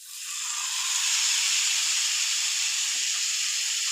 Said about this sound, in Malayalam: ഇത് നമുക്ക് നന്നായിട്ടൊന്ന് ഷാലോ ഫ്രൈ ചെയ്തെടുക്കാം.